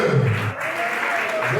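Audience applause for master of ceremonies Ben-K'Ma fills a short burst of dense, steady clapping, with a voice talking over it.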